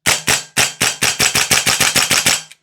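Rapid gas blowback bursts from a Vorsk VMP-2 airsoft rifle, about fifteen sharp, close, loud shots in quick succession, slightly uneven in rhythm, with no voices.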